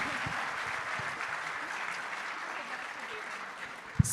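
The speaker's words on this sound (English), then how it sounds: "I think we can applaud one again" A Comic Con stage audience in Budapest applauds a contest winner, a steady moderate wash of clapping heard from within the hall, ending with a sharp close bump.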